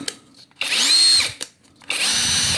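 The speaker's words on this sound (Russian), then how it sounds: "собрал я наш гайковертик. Вот он работает." A PATUOPRO 500Nm cordless impact wrench whirs up to speed in two loud bursts, with a short blip in between and a pitch that rises and settles, heard alone at close range.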